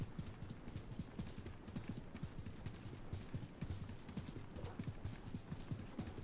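Camel hooves clop in a steady rhythm while riding in the video game Assassin's Creed Mirage, the mount sounding like a horse, close and continuous over a low ambient bed for the whole stretch.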